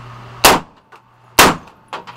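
Automatic rifle fire into an indoor berm rings out as two loud, sharp bursts about a second apart. Each blast echoes briefly in the enclosed space, and quieter clatter follows.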